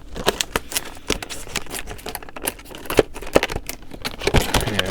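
Scissors snip and crunch through plastic die-cast car packaging in a rapid run of sharp, close clicks and crinkles, with no voices.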